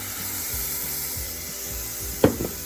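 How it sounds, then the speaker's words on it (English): Soft steady hiss of isomalt and water sizzling in a hot pot, with a brief louder crackle and bubbling burst near the end. "pretty much it just kind of like starts to sizzle"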